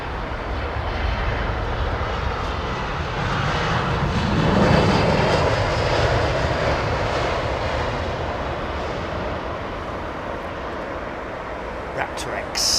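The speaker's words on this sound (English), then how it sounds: "This is Brussels' old A320 CEO in the new livery, though." Brussels Airlines Airbus A320ceo airliner at Heathrow Airport, a steady broad engine roar that swells slightly midway and holds loud throughout, with people talking over it.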